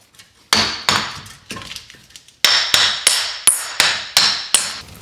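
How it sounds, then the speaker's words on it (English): A hammer knocks a rear wheel bearing off a Nissan Pathfinder: about nine sharp, ringing metallic blows, a few spaced strikes and then a steadier run of evenly timed hits, loud and close. "pull towards you and hammer on it at the same time"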